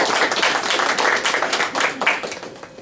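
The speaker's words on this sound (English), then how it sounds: "We can give her a round of applause." Audience clapping for a panel moderator at a youth forum session, loud and close with dense overlapping claps that carry evenly through the whole stretch.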